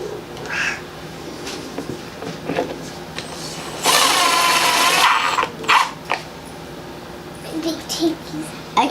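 A power drill drives screws into a DIY concealment cabinet in a garage, with one loud sustained whir and shorter bursts around it, mixed with a voice, a cat and other talk.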